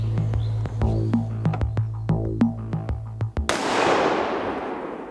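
A hunter's rifle fires once out in a hunting ground, a single loud sharp blast with a long rumbling decay that follows a stretch of rhythmic clicking over a low hum.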